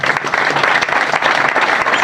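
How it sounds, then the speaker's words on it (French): An audience applauds at a French club event, a dense, steady wash of clapping that fills the whole stretch at close range with no voices on top. "Sous les applaudissements"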